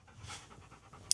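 A dog pants in short, quick breaths close by inside a Rivian electric vehicle while camping in below-freezing weather, audible alone and fairly quiet, with one brief sharper sound near the end.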